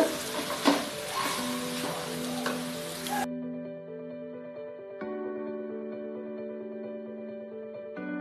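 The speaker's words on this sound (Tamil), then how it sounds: "வெந்த பாஸ்தா போட்டு நல்லா கலரியாச்சுங்க" Cooked pasta being stirred in a hot pan for masala veg pasta gives a few seconds of sizzling, scraping noise over steady background music, then fades so that only the music continues.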